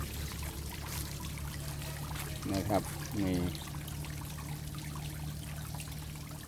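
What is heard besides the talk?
water flowing from a home-built garden waterfall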